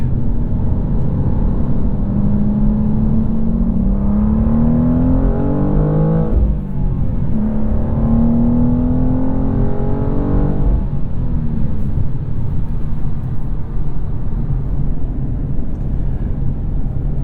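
Steady road roar from a 2023 BMW M2 with six-speed manual at highway speed on Michelin Pilot Sport 4S tires, with the engine tone rising and shifting twice under constant tire noise.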